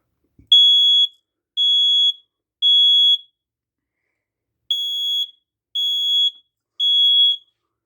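Smoke alarm tested in a house attic, sounding six loud piercing electronic beeps in two groups of three, each roughly half a second long, separated by short silences.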